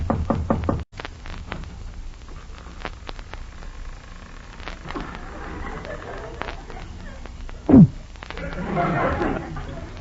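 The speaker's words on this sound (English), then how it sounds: "Just knock on the door." A handful of sharp knocks on a house door open the scene, close and distinct, followed by creaks and rustling amid a busy radio-drama background with voices talking.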